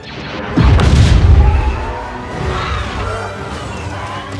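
A reactor explodes in the Star Wars Battlefront II space battle at Fondor Shipyards, heard from the cockpit as one loud, deep boom that swells, then rumbles away into a lingering roar.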